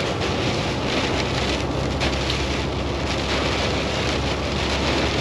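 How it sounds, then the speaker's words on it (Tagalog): Heavy storm rain pounding a truck while driving on South Dakota 46, a loud continuous roar of downpour with wind buffeting, steady and close with no talk. "Ayun, lakas ng ulan. Grabe."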